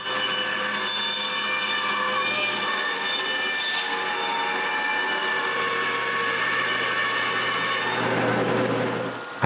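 A saw cuts through plywood scraps for making push blocks in a woodworking shop, a steady continuous rasping and grinding that runs the whole time with no talking over it.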